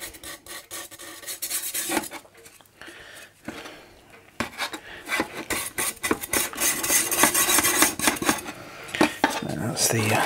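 Rust is scrubbed off a vinegar-soaked metal part of an Empco B-43 model steam engine, giving irregular scraping and rasping strokes with metallic clinks, quieter at first and busier and denser toward the end.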